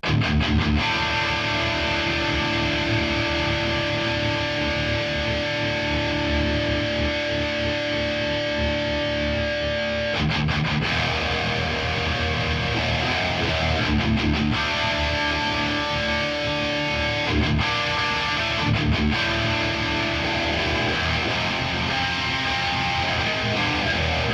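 Heavily distorted Spira S450 electric guitar boosted by a Mooer Hustle drive pedal, playing sustained high-gain chords and riffs, loud and thick, with brief pauses between phrases.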